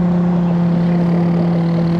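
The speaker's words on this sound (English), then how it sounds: "we got one truck coming by" A truck passes steadily along a road beside an asphalt patching job, its loud, even engine rumble and tire roar holding a constant drone with a strong low hum throughout.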